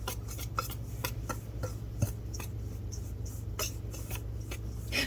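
Wire whisk beating a whole wheat, no-fat-added biscuit mixture in a bowl, a steady run of quick, close scraping strokes over a low background hum.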